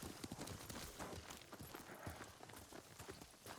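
Horse hooves clip-clopping in the video game Ghost of Tsushima, a steady run of close, quick hoofbeats over an ambient game backdrop, with no voices.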